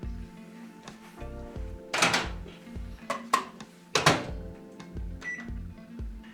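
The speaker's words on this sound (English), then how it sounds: "I'm going to choose to do the microwave" A microwave oven melting chocolate hums steadily with its turntable whirring, punctuated by a few sharp clicks and knocks nearby.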